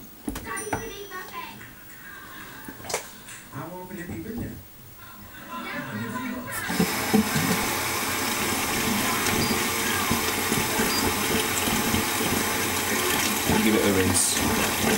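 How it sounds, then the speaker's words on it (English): A tap runs steadily and loud for rinsing, with a broadband water rush starting midway after some clattering and handling noises, continuing to the end. "Give it a rinse."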